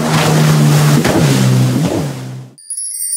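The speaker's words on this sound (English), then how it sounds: "Jet ski." A jet ski engine drones loud and close, its pitch dipping and rising in a few revving swells before cutting off abruptly, followed by a short bright electronic chime.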